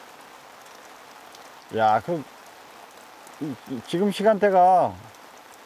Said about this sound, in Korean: 본격적으로 오네 비가